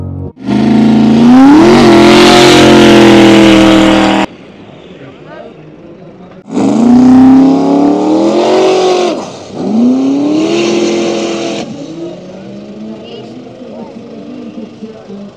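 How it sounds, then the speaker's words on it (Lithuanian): A dragster race car tears down the drag strip at a race in Palanga, its engine roaring very loud in two long bursts with rising and falling pitch, followed by a fading drone. "dabar pamatysite automobilį, kuris tikrai bus stabdomas parašiutu."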